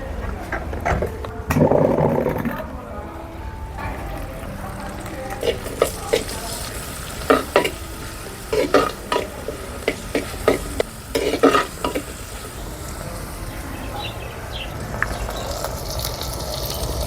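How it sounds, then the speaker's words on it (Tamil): Shallots, green pepper and garlic frying with popped mustard seeds in hot oil for drumstick kulambu, a steady loud sizzle broken by repeated stirring scrapes and clinks of a spoon against the pan. "கடுகு பொரிஞ்சதும் சின்ன வெங்காயம், பச்சை மிளகு, பூண்டும் சேர்த்து போட்டுக்குவோம்."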